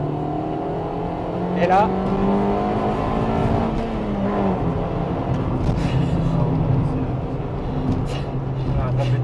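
A 1998 Honda Integra Type R engine revs hard toward 6000 rpm, a loud, rising drone with a raspy edge that holds high, while someone talks over it.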